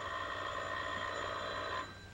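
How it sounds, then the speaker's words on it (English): An old telephone rings with a steady, bright bell tone for nearly two seconds, then cuts off abruptly, leaving a quiet room. "Someone's on the phone."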